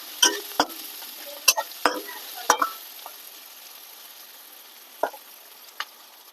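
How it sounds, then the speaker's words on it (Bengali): Onions fry in a pan with a steady soft sizzle, broken by sharp scraping clicks as a spoon stirs them every second or so early on, then only occasional knocks. "লাল লাল করে পেঁয়াজটা ভেজে নেব।"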